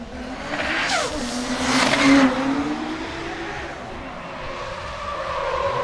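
A BMW E92 drift car works through a cone-marked course at an RDS GP qualifying round in Sochi, its engine revving and droning steadily at mid distance, swelling louder midway and easing off, with no voices.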